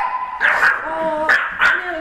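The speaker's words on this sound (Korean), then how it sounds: "살짝 과하다 싶을 정도로 짖는 것 외엔 별다를 게 없어 보이는 녀석들" Several dogs bark close by in a run of four or five sharp, high barks and yips, with a brief whine between them.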